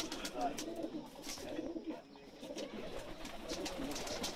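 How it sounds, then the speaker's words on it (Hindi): Salara pigeon cooing in a pigeon loft in Pakistan, soft low murmuring coos under a continuous hum of background noise, with faint bird sounds around it. "ये सलारा कबूतर है।"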